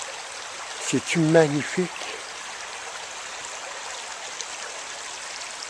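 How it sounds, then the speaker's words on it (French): Steady soft trickle of stream water flowing through a forest in the Grandes Coulées regional park, faint and constant throughout, with a brief spoken remark near the start. "Et écoutez les amis, le son de l'eau."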